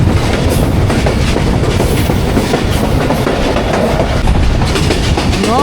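Jaffar Express passenger train running through Sanjani railway station between Taxila and Rawalpindi, a steady loud rumble of wheels with clickety-clack rhythm throughout, heard close from aboard.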